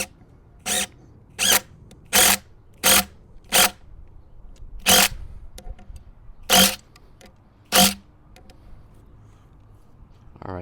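A socket wrench turning a lag bolt into an antenna mast support, eight sharp ratcheting bursts in an uneven rhythm, close and loud against a quiet background with faint handling noise between strokes.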